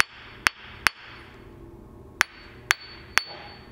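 Hammer taps on a cracked surface grinder wheel, giving five or six sharp, separate knocks with a dull, unringing tone, spaced irregularly over a low background hum.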